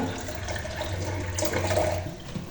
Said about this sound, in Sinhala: දැන් මම මේකට තව වතුර ටිකක් දා ගන්න ඕනේ වතුර කෝප්පයක්.